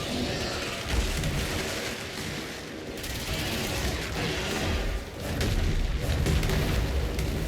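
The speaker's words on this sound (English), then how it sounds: "Zero energy, explosions everywhere." Explosions go off all around in the video game Control, a dense roaring barrage of booms and blasts that rolls on without a break and swells louder near the end.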